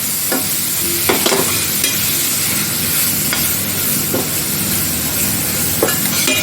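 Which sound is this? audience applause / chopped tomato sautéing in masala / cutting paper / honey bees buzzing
chopped tomato sautéing in masala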